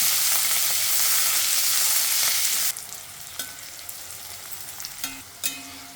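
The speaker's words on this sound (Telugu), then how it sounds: "మిరపకాయలు వేయించిన నూనెలో వెల్లుల్లి, చింతపండు, అల్లం, వెల్లుల్లి ఎర్రగా అయ్యేంత వరకు వేయించుకోవాలి" Garlic, tamarind and ginger fry in oil left from frying chilies, a loud steady sizzle that suddenly drops to a quieter crackle, with occasional spoon clinks near the end.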